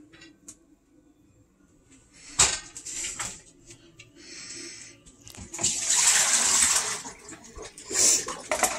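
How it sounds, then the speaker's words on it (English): Water from boiled potatoes splashes and pours out of a pot in bursts, growing heavier toward the end, with faint clinks of the pot, fairly close. "I go ahead and dump out the water"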